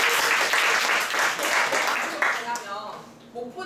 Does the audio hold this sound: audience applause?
yes